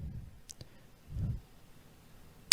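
A computer mouse gives a few sharp, isolated clicks, faint and close, with short quiet gaps and a crisp final click.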